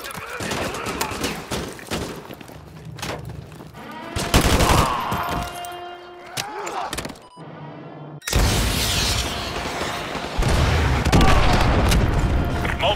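Missile strikes and heavy explosions in the video game Modern Warfare 2 Remastered, with loud booming blasts and bursts of gunfire in several waves, a brief near-silent gap midway, and radio voices talking over the combat.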